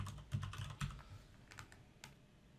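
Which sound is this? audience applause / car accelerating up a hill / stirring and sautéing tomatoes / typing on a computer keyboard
typing on a computer keyboard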